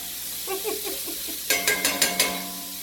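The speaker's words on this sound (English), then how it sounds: "While the shrimp are cooking" Shrimp with seasonings cooking in a hot skillet, with a soft steady sizzle beneath a run of light scraping stirs and then several sharper clinks of a utensil against the pan.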